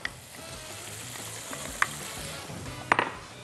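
Garlic and bell peppers sauté in a pan as olive pieces go in for a ribbon pasta dish, giving a steady soft sizzle broken by a few sharp utensil scrapes and clinks near the end, with no talking.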